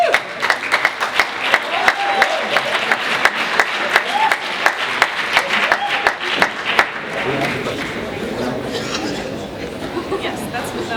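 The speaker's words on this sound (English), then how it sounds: "let's give them a round of applause for being awesome" A debate audience gives a round of applause: steady, fairly loud clapping for about seven seconds, then fading into crowd murmur and talk.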